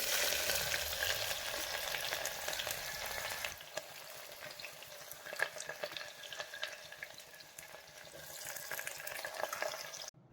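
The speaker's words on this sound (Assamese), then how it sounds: "এতিয়া ইয়াত পিঁয়াজো দি দিওঁ" Onions for a mutton curry fry in a pan with a bright, busy sizzle that drops a little after a few seconds and then carries on with spattering crackles. No voices are heard.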